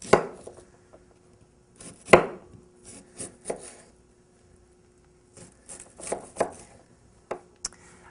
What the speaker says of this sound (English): Now that you're done cutting your cabbage